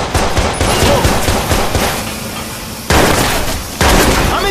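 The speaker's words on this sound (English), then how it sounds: "Officer's been shot! Watch your back! He's hit! Look out! Shots fired!" Heavy gunfire from the video game Watch Dogs, loud dense volleys of rapid shots with sharp cracks and sudden bursts that cut in and out.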